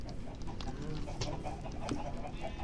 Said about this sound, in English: Look at my chickens.